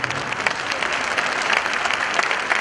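An audience at a dance performance claps steadily for a few seconds, a dense, even patter of many hands heard at close range.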